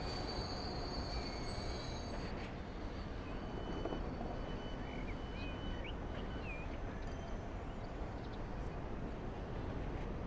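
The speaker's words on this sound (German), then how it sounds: "da kommt noch ein Güterzug hier gerade lang gefahren" A freight train loaded with timber rolls past in the Transport Fever game, its wheels squealing steadily against the rails in a continuous, dense rumble that stays loud for the whole stretch.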